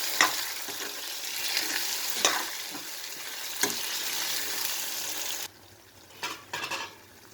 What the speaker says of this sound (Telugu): పప్పులు అవన్నీ వేగగానే మామిడికాయ తురుము వేసేసుకున్నాను